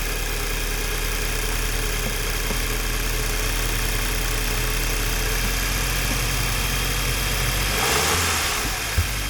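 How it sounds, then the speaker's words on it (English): A 2010 Audi with new cam followers idles in a steady, dense mechanical rumble, close and loud, with no voices. The engine holds even for about eight seconds before the sound briefly shifts. "Let's start the car."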